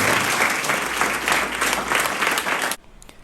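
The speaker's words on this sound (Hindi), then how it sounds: "एक बार जोरदार ताली।" An audience claps loudly in a thick, continuous burst that cuts off abruptly near the end, leaving near silence.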